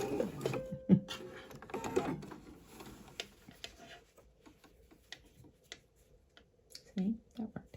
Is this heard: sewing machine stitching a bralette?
yes